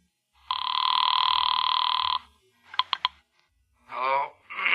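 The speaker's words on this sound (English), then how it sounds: "It's ringing." An old-style telephone bell rings in a long burst, followed by a few short clicks and two brief electronic warbling tones.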